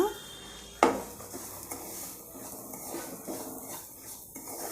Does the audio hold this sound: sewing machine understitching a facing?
no